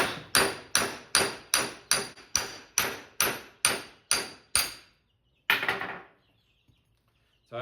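A hammer strikes metal parts held in a vise to knock them apart while disassembling a Kuhn gyro rake, about ten sharp, evenly spaced blows in close succession, then one final hit after a short pause.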